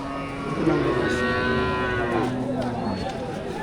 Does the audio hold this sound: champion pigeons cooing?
no